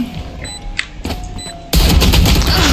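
Gunfire in the tactical shooter Valorant: at first sparse bursts over quiet game sounds, then a sudden loud, dense volley of shots that continues to the end.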